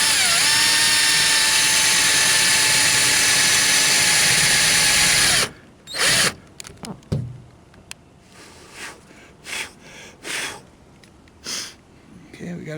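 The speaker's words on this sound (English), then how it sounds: "We're going to start drilling our hole." Power drill boring a hole for an antenna mount through the roof of a 2015 Nissan Frontier, a loud steady whine for about five seconds that cuts off abruptly, followed by short scattered handling noises and brief bursts.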